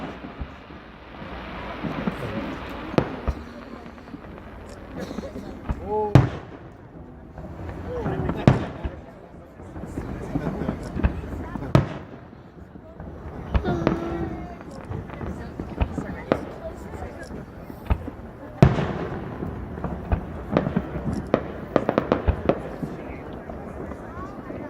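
Fireworks exploding at a 2016 display, with repeated booms and crackling bursts at irregular intervals, some near and sharp, others softer and distant, heard over wind noise and people talking.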